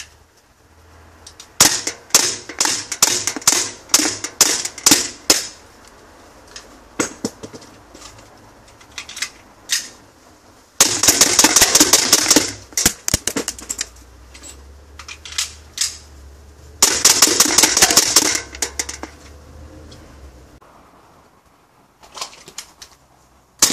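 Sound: rapid magazine changes on CO2 Sig P226 X5 pistol

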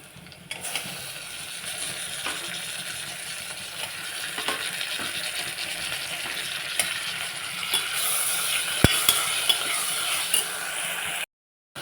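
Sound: tomatoes and onions being stirred while frying in pan

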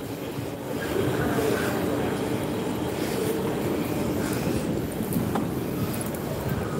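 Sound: MTR East Rail Line R train entering platform

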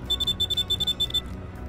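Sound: harvester low fuel warning beeping

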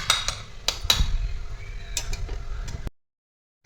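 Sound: covering gulab jamun pot with a lid

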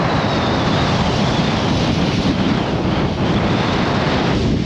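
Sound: big waves crashing on Lake Erie in strong wind

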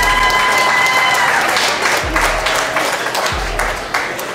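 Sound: audience applause and clapping at a restaurant eating challenge

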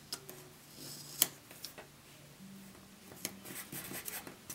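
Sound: writing in a planner with a pen

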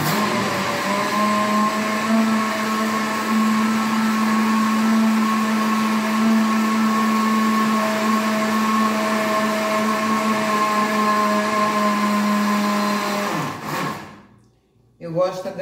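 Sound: electric mixer beating sugar, oil and eggs for carrot cake

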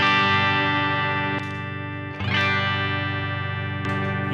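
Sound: Moonshine overdrive guitar pedal, low gain

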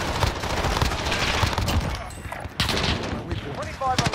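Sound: gunfire in Call of Duty: Modern Warfare video game

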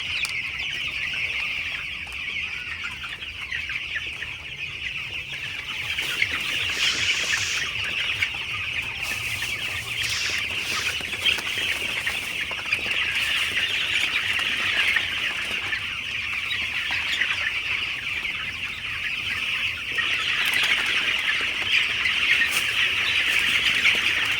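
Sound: broiler chicks chirping in a poultry shed

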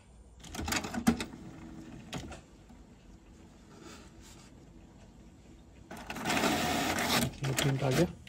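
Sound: HP Smart Tank 500 printer printing alignment page

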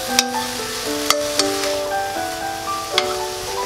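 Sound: stir-frying royal tteokbokki with shiitake mushrooms in a pan

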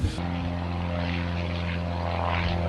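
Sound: British World War II era propeller airplanes

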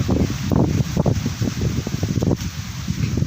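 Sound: strong wind outdoors

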